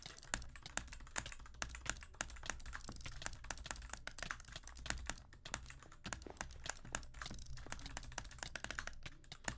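Rapid mouse clicking during a Minecraft PvP match, a dense stream of sharp, close, loud clicks in fast irregular bursts with no talking.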